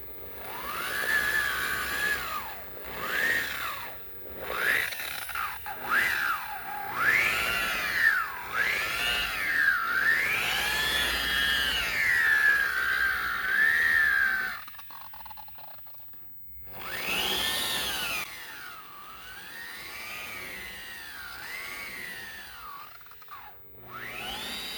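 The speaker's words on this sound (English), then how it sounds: "This buffer is powerful, and it doesn't forgive." A powerful rotary buffer whines while polishing oxidized gelcoat on a boat, its pitch rising and falling as the pad loads and eases, cutting out briefly before spinning up again.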